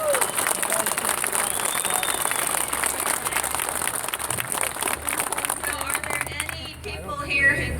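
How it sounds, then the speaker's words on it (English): Crowd applause at an outdoor gun rights rally in Ohio, a continuous wash of clapping and crowd noise that carries on steadily, with some brief chirping and shuffling sounds near the end. "Give her a big round of applause."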